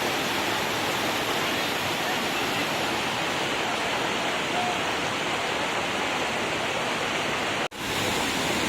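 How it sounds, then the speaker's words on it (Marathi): Steady, dense roar of Anandwadi Waterfall near Neral, broadband and continuous, close by, with a brief sharp dropout near the end. "फायनली आपण आलो आहोत आनंदवाडी धबधब्यामध्ये बघू शकता तुम्ही"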